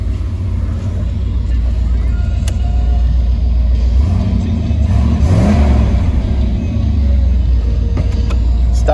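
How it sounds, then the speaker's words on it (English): A 1988 Pontiac Trans Am GTA WS6 with stock exhaust idles with a steady, close, loud low rumble, then gets a couple of revs that swell and fall away. "give it a couple revs so you can hear how it sounds"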